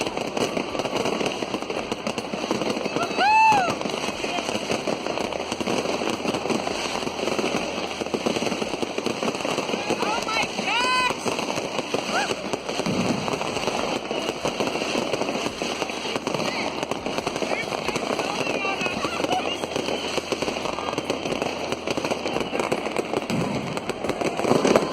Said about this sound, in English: people are just lighting fireworks off in every direction possible